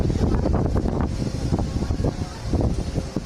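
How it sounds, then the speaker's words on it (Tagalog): Strong wind buffets the microphone outdoors at an amusement park, a loud, continuous roaring rush with gusty surges and no clear talk. "Na sobrang lakas ng hangin dito."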